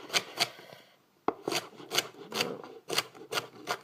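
A knife cutting vegetables on a board: a series of close, rasping slicing strokes in an uneven rhythm, with a brief pause and a sharp tap near the middle, and no voices.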